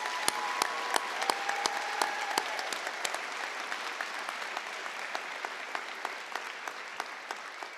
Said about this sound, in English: give everybody another large round of applause for making this happen